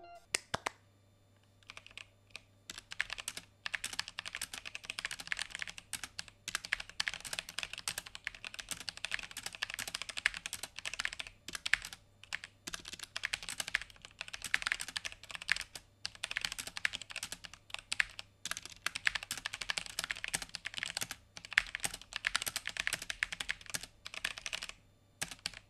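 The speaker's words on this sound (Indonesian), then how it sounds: "setelah kalian sudah melihat hasil suara dari keyboard switch brown dari G512" Steady typing on a Logitech G512 mechanical keyboard with brown switches and an aluminum top plate, a continuous quiet patter of soft, close key clicks with no talking.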